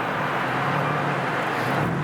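A Nissan 370Z with a remote-mount twin-turbo setup using mismatched turbos is driven, giving a steady, broad engine and road rumble heard from inside, without distinct revving.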